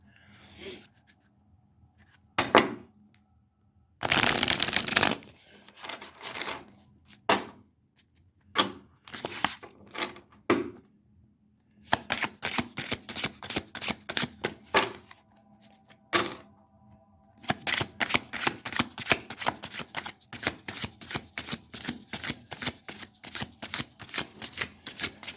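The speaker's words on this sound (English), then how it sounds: "Let's shuffle it again." Tarot cards are shuffled by hand, first in scattered bursts and pauses, then in long runs of fast, crisp riffling flutters near the microphone. There is no talking.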